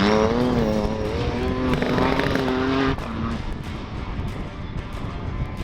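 A Nissan R35 GT-R shakedown car with traction control switched on drives past, its engine note loud and rising in steady harmonic pulls before easing off at the end, with continuous road and exhaust roar throughout.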